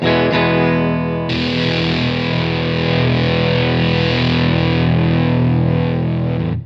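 An electric guitar played through a DIY Stewmac Fuzz Face kit pedal, thick buzzing distorted chords sustaining loudly and continuously before cutting off at the end.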